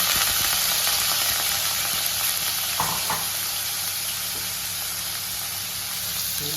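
Paneer frying in hot oil in a pan, a loud continuous sizzle and crackle with a couple of soft stirring knocks partway through.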